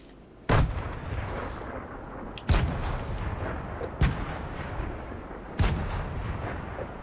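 Grenade explosions in the Fortnite video game, four heavy booming blasts at irregular intervals, each a sharp loud onset followed by a rumbling decay, with no talk.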